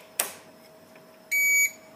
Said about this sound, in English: when we hear that beep, it means the battery is properly fixed.